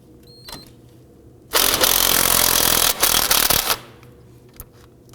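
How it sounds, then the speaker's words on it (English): Impact gun loosening the outer tie rod nut on a 2005-2009 Subaru Legacy, a loud rattling burst of about two seconds, a brief pause, then a shorter burst, close by. "I'm going to go ahead and use my impact gun"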